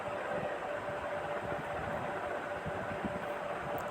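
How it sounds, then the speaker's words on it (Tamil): An Eicher tractor rolls forward after a clutch plate fitting, giving a steady, continuous mechanical rumble with a faint tonal whine running unchanged throughout. "வண்டி மூவிங் பண்ணி பார்க்க போகிறோம். முன்னே மூவ் ஆகுது நல்லா."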